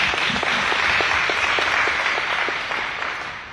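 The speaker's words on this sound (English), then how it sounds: "Let's give Mayor Day another big round of applause." An audience gives a round of applause for a mayor at a Wake County sheriff candidates' forum, steady clapping that slowly fades toward the end.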